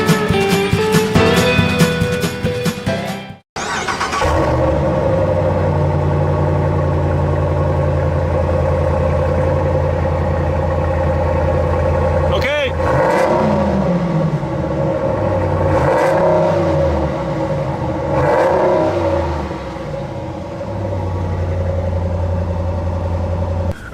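A Ram pickup with a 5.7-liter HEMI V8 and 8-speed automatic runs loud and close, a steady low engine drone with a few swells as the revs rise and fall after a brief cutout early on.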